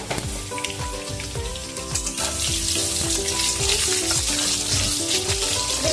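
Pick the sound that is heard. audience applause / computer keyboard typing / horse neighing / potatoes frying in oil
potatoes frying in oil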